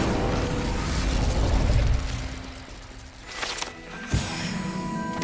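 Incendio fire spell cast in the video game Hogwarts Legacy, a roaring whoosh of flame that swells and fades, followed by a couple of sharp crackling bursts and a final pop, loud and close.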